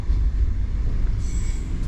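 A train between Kyiv and Lviv, Ukraine, rumbles past with a steady low roar, and a faint high wheel squeal rises near the end.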